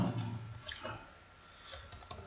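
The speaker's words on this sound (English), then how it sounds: "Same thing I'm going to do here is I'm going to type" Typing on a computer keyboard while building a web page: a soft, quick run of key clicks in short bursts, close and fairly quiet, with no talk.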